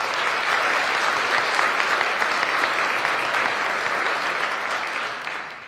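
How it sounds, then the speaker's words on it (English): Election-night supporters of Joe Lombardo applaud the absent campaign chair, a full, steady roomful of clapping that stays loud and even throughout before easing slightly at the close. "can we give him a round of applause?"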